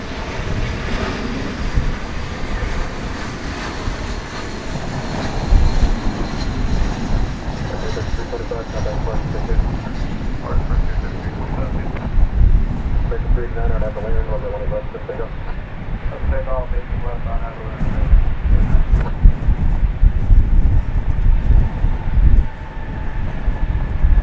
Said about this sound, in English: that plane going out was Flight 1812 to Colorado Springs, 737-800